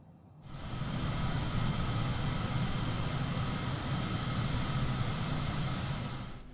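A Bombardier Global 6000 business jet climbs in Microsoft Flight Simulator, its engine roar swelling in after a brief quiet start and then holding as a steady, broadband rush.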